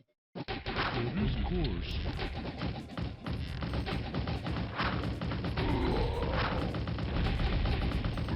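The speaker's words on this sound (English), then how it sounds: "The trolls are nicely destroying all these farms here." In WarCraft II: Remastered, trolls attack and destroy farms in a dense, continuous clatter of hits, crashes and collapsing buildings with battle noise, a voice speaking over it.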